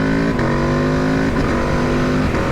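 A 2021 Aprilia RSV4 1100 Factory sport motorcycle with a non-Akrapovic exhaust, its engine revving loud and close, a rich sustained roar that rises and dips slightly over a couple of seconds.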